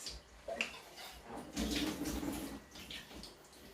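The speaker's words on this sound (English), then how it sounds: "Just rinse out the tin a little bit." Water swishing and splashing inside an emptied coconut milk tin as it is rinsed with a small amount of water, a few short sloshes close by, fairly quiet.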